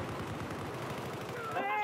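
Automatic gunfire rattles in rapid bursts during a Battlefield 4 multiplayer match, moderately loud in a short burst of dense shots with the game's ambient noise behind it.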